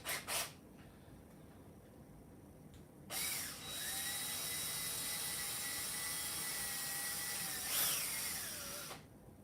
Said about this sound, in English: let's get ourselves out a nice little drill bit